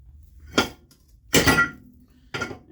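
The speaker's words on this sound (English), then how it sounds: "We're going to take our brake rotor, put it on there backwards, make a little slide hammer out of it." Three sharp metallic clanks, spaced about a second apart, as a brake rotor mounted backwards is slammed like a slide hammer against a Jeep JK rear axle during an axle seal repair, each strike ringing briefly and loudly with no talk.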